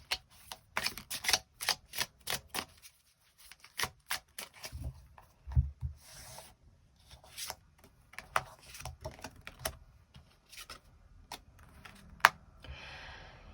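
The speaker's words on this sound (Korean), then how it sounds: "추가 카드 뽑아보도록 하겠습니다" Tarot cards are drawn and laid down, with a steady run of close, crisp card clicks, slides and taps in a quiet room.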